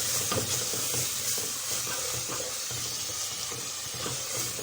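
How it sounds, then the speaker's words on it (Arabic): Onion softening in a pan as the base for stuffed cabbage gives a steady close sizzle and hiss, with occasional scraping from stirring and no voices. "تدبل معانا البصلة، مش بحمر البصلة يا حبايبي للمحشي انا"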